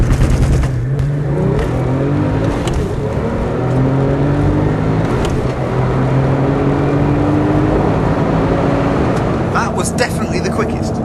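A Porsche GT2 turbocharged engine roars through a launch-control start from first gear. The rising, strained revs sweep upward through the gears, loud and close, and a voice talks over it.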